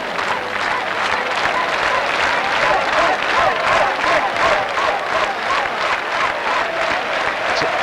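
A large stadium crowd applauds at the 1987 athletics world championships in Rome, a dense, sustained roar of clapping that pulses steadily throughout, with a faint voice under it.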